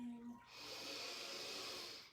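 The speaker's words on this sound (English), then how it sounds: "Breathing in." A long, slow inhale through the nose during a yoga session: a soft, close airy breath that swells and holds steady for about two seconds, with no talk over it.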